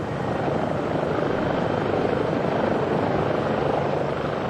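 Life Flight medical helicopter at a rescue scene, its loud, steady rotor chop and engine roar filling every moment without a break, close and constant with no talk above it.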